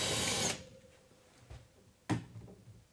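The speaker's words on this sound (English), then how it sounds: "we drill a hole through the base of the bracket into the wall" A power drill bores a hole through the base of a shelf bracket into a wall, a loud burst of whirring that cuts off after about half a second, followed by a quiet pause and a sharp knock.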